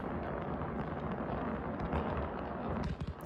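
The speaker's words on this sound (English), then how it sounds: "wherever this is, there's a lot of fireworks" Fireworks erupt continuously over a city at night in a dense, rumbling barrage of overlapping booms and crackles, heard from a distance with no clear gaps.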